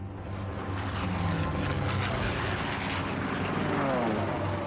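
Japanese warplanes in a World War II attack on Ford Island, a steady loud propeller-engine roar filling the scene, with voices faintly audible underneath.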